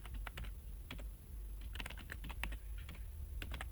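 A computer keyboard clatters as a web address is typed, with quick irregular keystrokes in bursts throughout, close but fairly quiet over a low steady hum.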